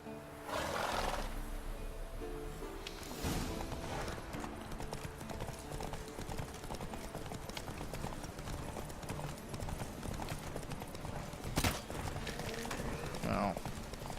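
Horse hooves clip-clopping in The Witcher 3: Wild Hunt, a steady galloping patter under game music and effects, with a whinny and occasional crashes mixed in.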